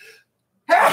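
A person sneezes once, a short, sharp burst right at the end, after a brief trace of sound and a stretch of near silence.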